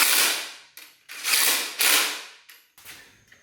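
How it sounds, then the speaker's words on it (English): A hand ratchet tightening the top clamps on a Honda CBR600RR motorcycle, four loud close rasping runs of rapid clicks, each separated by short pauses, with no voices. "I'm going to tighten up the top clamps first to hold it where I want it"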